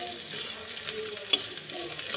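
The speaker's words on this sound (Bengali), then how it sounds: "এখানে দেখো পেঁয়াজটা মোটামুটি ভাজা হয়ে গেছে" Chopped onion frying in a pan for chow mein gives a steady, soft sizzle with faint crackles and one brief sharp tick, close by and with no voices.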